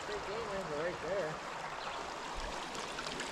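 Steady broadband rushing of a creek flowing, with faint voices and a brief tonal whine early on over the constant water noise.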